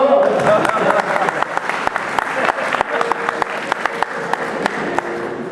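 A live audience at a Paryushan evening religious discourse breaks into sustained applause, dense and steady throughout with sharp individual claps standing out.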